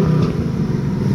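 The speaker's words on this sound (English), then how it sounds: "But just wanted to let you really hear it for yourself as well. Definitely has that nice low rumble to it." Steady, loud low rumble from the engine of a 2018 Ford Mustang GT with track pack, heard close and alone as a continuous deep idle.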